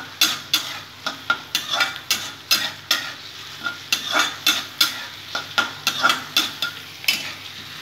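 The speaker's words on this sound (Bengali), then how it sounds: "পেঁয়াজটা আমি লাল লাল করে ভেজে নিয়েছি।" Onions with a pinch of salt fry in a pan, a steady sizzle broken by regular scraping strokes of a spatula, close and clear with no talk.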